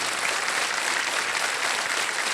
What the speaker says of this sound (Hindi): तालियां बजती रहे निशा जी के लिए